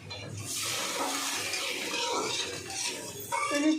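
Water splashes into a pan of browned, frying masala for a fish curry, a close, loud hissing sizzle with bubbling and spattering that carries on for several seconds.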